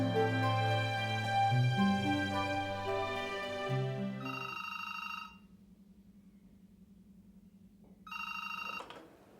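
A telephone rings during a call being placed, with loud, steady electronic ring tones up front, then a pause and a second, shorter burst of ringing near the end.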